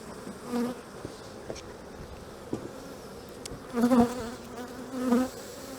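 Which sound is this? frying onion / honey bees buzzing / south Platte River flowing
honey bees buzzing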